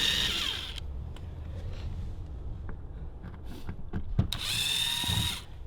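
A power drill backing a screw out of a vinyl fence panel, the motor whining in short bursts at the start and end with rattling, clicking handling noises in between.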